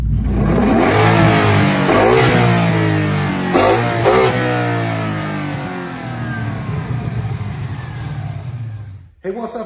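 A 2014 Ford Mustang GT with Coyote V8, headers, intake manifold and cams, revving hard on a dyno, climbing through a long wide-open pull with loud exhaust, then falling back and cutting off near the end.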